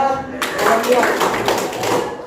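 A junior high classroom of students claps out a counted pattern in a game, a burst of many hands starting abruptly and clattering loudly and unevenly for under two seconds, close and roomy.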